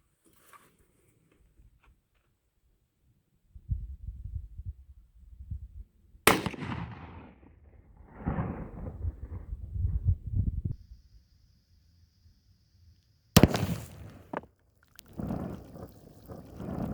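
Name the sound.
gunshots firing Winchester Super X lead core bullet at range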